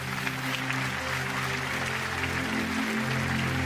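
A church congregation claps steadily in dense, sustained applause over an ongoing low musical hum, loud and unbroken throughout.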